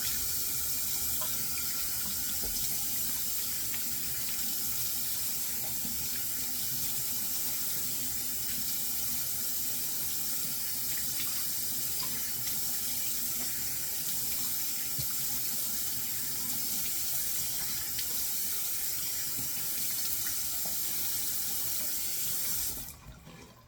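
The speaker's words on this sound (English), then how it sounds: "I left the water running." A bathroom sink tap runs steadily during a wet shave with soap, a continuous broadband water hiss close by and alone for the whole stretch, cutting off abruptly at the end.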